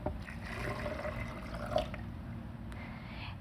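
Water poured for a tofu and berry recipe, a continuous splashing, trickling flow at close range that holds fairly steady and briefly swells near the middle.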